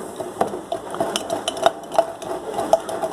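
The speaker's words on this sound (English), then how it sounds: "I'm going to take and stir it up real good" Utensil scraping and clinking against a bowl while stirring a venison jerky marinade with brown sugar, a steady series of light, close taps and scrapes with no talking.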